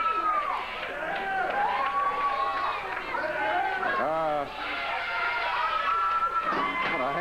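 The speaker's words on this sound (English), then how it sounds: "Listen to this crowd. This crowd's louder than actual arenas now." A loud wrestling arena crowd at a 1989 Memphis show roars and cheers continuously, with rising whoops and shouts over a constant hubbub and a commentator talking over it.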